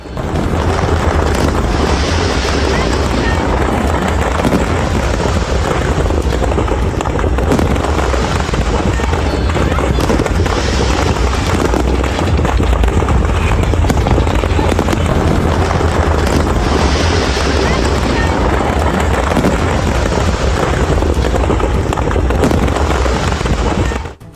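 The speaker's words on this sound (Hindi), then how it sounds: "कोलकाता में भारतीय जनता पार्टी के जो कार्यकर्ता हैं वो जश्न मनाते नजर आए और जमकर पटाखे चलाते" Dense, continuous crackling and popping of firecrackers at a street celebration in Kolkata, loud and close, with a rumbling outdoor wash throughout and no pauses.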